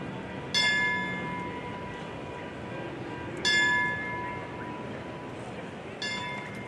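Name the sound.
bell tolled three times at a memorial rally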